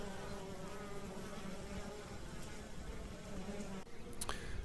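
Honey bees buzz steadily around an Apimaye beehive, a dense continuous drone at moderate, even loudness with no talking.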